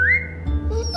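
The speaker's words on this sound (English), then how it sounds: "Now whistle and tell her to lie down." In The Walking Dead video game, a short whistled call to a dog rises in pitch, with low background hum and no speech.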